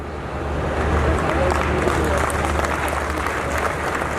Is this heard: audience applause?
yes